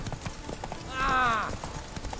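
Roach, the horse in The Witcher 3, trots on Skellige Islands with a steady patter of hoof clip-clops. A short high whinny rises over them, and a voice speaks in between.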